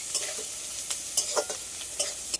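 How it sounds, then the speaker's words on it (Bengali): Green chilies and crushed garlic frying in a pan, with a steady soft sizzle broken by several short bursts of stirring and scraping, close and fairly quiet, with no talk. "দুটো কাঁচা লঙ্কা দেবো, থেতো করে রাখা রসুন, এগুলো সব একসাথে আমি এবার ভেজে নেব।"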